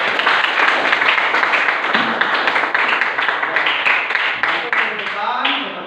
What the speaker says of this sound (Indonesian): kita tepuk tangan dulu untuk kelancaran hari ini